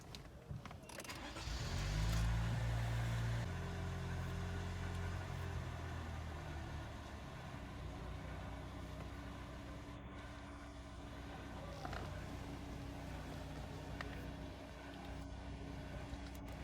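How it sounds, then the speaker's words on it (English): A 2017 or 2018 Toyota Corolla engine cranks briefly, catches, then settles into a steady low idle with a faint hum, heard close and fairly quiet for the rest of the stretch. "Start the vehicle to check if it works properly."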